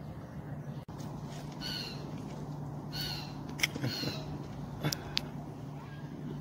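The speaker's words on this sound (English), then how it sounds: "Birds flying around." Several crows caw repeatedly, some nearby and some farther off, over steady outdoor background noise, with people talking at times.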